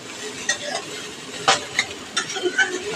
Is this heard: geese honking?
no